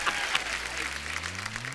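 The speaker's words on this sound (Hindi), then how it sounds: "जोरदार तालियां मेरे लिए" Applause from a small group on an Indian comedy show set, moderately loud steady clapping, with a tonal hum or voice-like sound running underneath.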